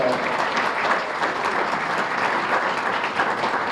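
Banquet audience at an annual high school basketball association dinner giving sustained, dense applause that stays even and full throughout, with no talk over it.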